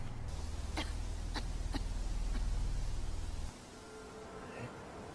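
A woman coughs in a video game, four or five sharp coughs spread over a few seconds above a loud low droning ambience that drops away abruptly, leaving quieter background sound.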